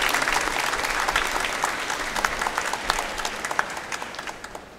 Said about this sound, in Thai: ขอพวกเราปรบมือเป็นพิเศษ